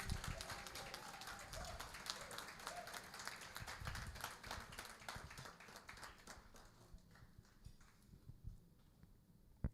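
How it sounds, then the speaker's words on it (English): Scattered applause from a gala audience at a service awards night, a steady patter of claps with some voices mixed in, fading toward the end. "A round of applause."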